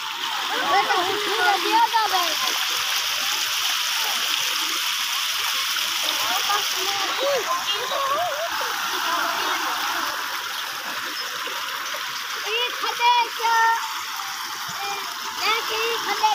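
Floodwater rushing through a flooded village, a steady broad wash of flowing and splashing water running throughout, with a voice talking over it now and then.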